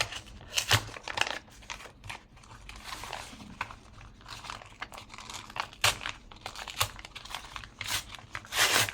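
Brown paper bags are crumpled and torn apart by hand, close crinkling and crackling in irregular bursts with sharp tearing rips scattered throughout and no speech.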